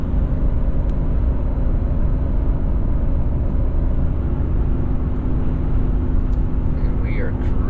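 The engine of a 2024 Toyota Tundra SR5 TRD Off-Road pulls a trailer uphill at 3,000 RPM. It makes a loud, constant low drone with road rumble, and faint talk can be heard over it at times.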